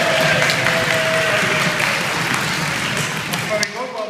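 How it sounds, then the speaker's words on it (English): A comedy show audience claps, stamps and cheers together, a loud sustained roar of hands, thumping feet and shouting that fades away at the end, with voices calling out inside it. "I want you to clap your hands, stamp your feet and cheer"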